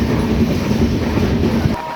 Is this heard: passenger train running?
yes